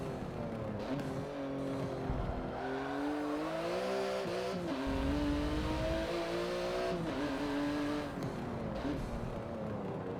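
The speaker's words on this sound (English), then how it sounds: "This is a road car." Road car engine in Forza Motorsport 7 on a wheel setup, a steady droning hum that rises and falls with revs over ten seconds, with a slight dip partway through.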